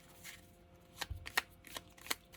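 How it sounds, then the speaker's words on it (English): A deck of tarot cards is shuffled by hand in quiet, soft papery bursts of riffling and sliding, several short flurries close by with no talk. "you shuffle them like this until a card reveals itself"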